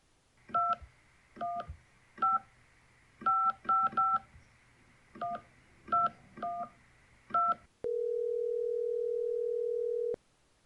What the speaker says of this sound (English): Kevin, dial up Harper.